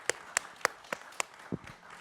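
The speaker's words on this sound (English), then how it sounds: "Let's give a big round of applause for our panelists." Scattered handclaps from a small audience at a panel discussion on Canadian border security and immigration: roughly half a dozen sharp, separate claps spread over two seconds, quiet and sparse rather than a full round of applause.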